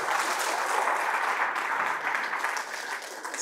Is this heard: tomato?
no